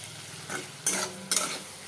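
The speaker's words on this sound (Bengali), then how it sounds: "এখন ভালো করে নাড়াচাড়া করবো" A spoon stirring pabda fish curry in a pan, quiet scraping strokes with two brief louder scrapes close by, no voices.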